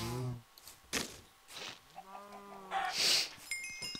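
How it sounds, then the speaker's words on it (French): A chicken in the video game Minecraft clucks in short bursts among game effects and chimes at a low level. "Une poule qui s'est évadée."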